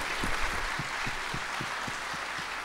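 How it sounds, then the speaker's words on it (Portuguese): A church congregation applauds its pastors during a worship service, a dense steady wash of clapping with sharper individual claps standing out, sustained evenly throughout. "Vocês podem dar uma salva de palmas aos seus pastores?"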